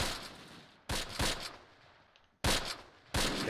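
Gunfire in the WWII tactical game Close Combat during a tank engagement: four loud, sharp bursts of shots with short decaying tails, spaced irregularly across a few seconds, no talk.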